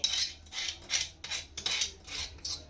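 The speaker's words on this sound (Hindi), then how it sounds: "फिर इसे मिक्स करती हूँ मैं अच्छी तरह से" A spoon stirs yogurt with green chili paste and mint in a bowl while making dahi vada, giving a series of rhythmic, wet scraping strokes with no talk.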